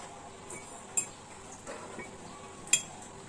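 A spoon adds sugar to a glass for iced milk tea, giving two or three faint, sharp clinks against the glass amid quiet room tone.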